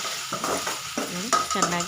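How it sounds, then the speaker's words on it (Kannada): Tomato and onion frying in oil for tomato chitranna: a constant hiss of sizzling under rhythmic scraping and stirring strokes in the pan, close and moderately loud, with no voices. "ಚೆನ್ನಾಗಿ ಎಣ್ಣೆಯಲ್ಲಿ ಫ್ರೈ ಆಗಿದೆ ಟೊಮೊಟೊ ಈರುಳ್ಳಿ ಎಲ್ಲ"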